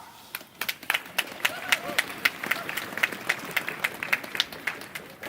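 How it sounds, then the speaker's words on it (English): Audience at a women's march against violence in Groningen applauding, clear individual claps in an irregular rhythm over a murmuring crowd, fairly close and moderate in volume. "please a very big and warm applause"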